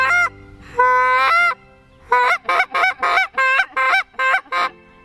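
Handheld goose call blown to mimic feeding geese: a few drawn-out moaning notes, then a quick rhythmic series of clucks and honks, loud and close.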